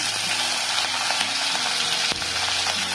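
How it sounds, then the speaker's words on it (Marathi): Mustard seeds and cumin sizzle in hot oil in a pan while rava upma is being made. A continuous, close, crackling fry hiss fills the whole short stretch, with no talking. "तापलेल्या तेलात मी मोहरी टाकते, जिरे"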